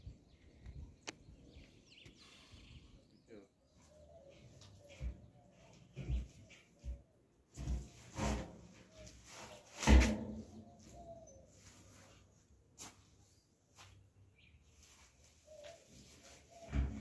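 Rain birds call in a backyard fruit garden, a few soft coos and chirps scattered across a quiet outdoor scene, with brief background voices and a few knocks.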